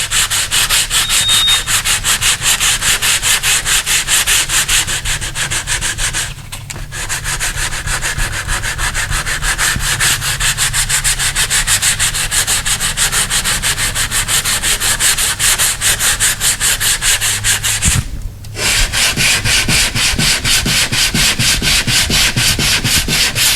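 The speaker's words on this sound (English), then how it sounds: "And once you start sanding, you can see where the high spots are and where the low spots are." Steady, loud abrasive rubbing as a sanding block works over a dented metal door, continuous strokes with two brief pauses, close up and alone.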